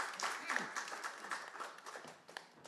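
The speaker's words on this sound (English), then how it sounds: "Big applause to our young generations." A session audience in a conference pavilion gives a brief round of applause for young presenters, with soft, scattered clapping at moderate distance and some voices mixed in.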